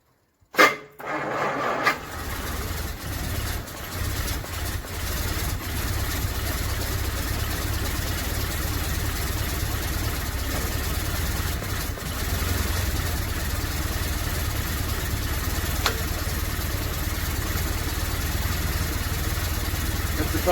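A 1969 Jaguar XJ6 Daimler Sovereign, abandoned for 18 years, catches after a sharp start and settles into a steady, rough, low-pitched idle running on for about eighteen seconds.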